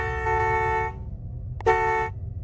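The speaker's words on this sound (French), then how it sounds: "je commence à klaxonner" A car horn honks outside a brother's house at night, two long blasts separated by a short gap, loud and close over a low engine rumble.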